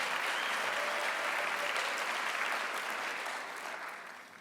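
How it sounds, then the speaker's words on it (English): A room applauds its communications team at the Clayton County State of the County address, a dense, even clapping that holds steady and then tapers off toward the end. "Let's give our communications team another round of applause"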